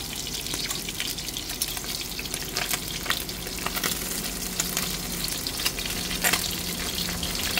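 Sausage sizzles steadily in a hot frying pan, a dense continuous crackle and hiss with small pops and occasional stirring scrapes, close and loud throughout with no voices.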